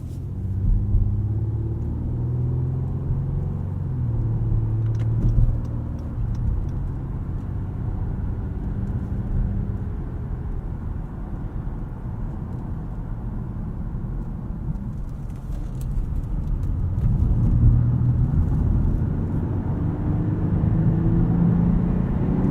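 2018 Acura TLX A-Spec heard from inside the cabin while driving at night, a steady low engine drone and road rumble that swells slightly as the car accelerates, with no talking.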